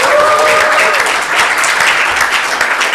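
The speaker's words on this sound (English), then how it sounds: "Round of applause for Sunny." An awards-ceremony audience claps loudly for young lead actor Sunny Pawa, a dense, close wash of applause lasting the whole stretch, with a faint voice briefly over the opening.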